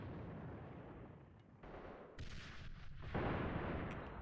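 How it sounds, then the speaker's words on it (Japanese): Grenade blasts and gunfire in the online shooter AVA, with loud broadband booms and bursts that cut in abruptly, heavy and close, with no speech over them. "手榴弾を使うぞ。"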